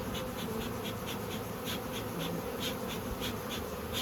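Honeybees swarm around a beehive just moved onto a pallet at dusk, a dense continuous buzz filling the air with many wingbeats overlapping, steady and fairly close throughout.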